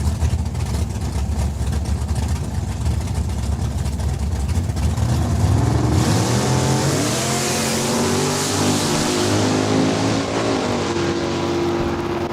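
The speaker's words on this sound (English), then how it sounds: "Harold Penner pulling the front wheels on that Fairlane" A Ford Fairlane drag car launches hard down the strip at a drag racing event, its engine roaring loudly and rising in pitch as it accelerates away, the revving sustained and steady throughout.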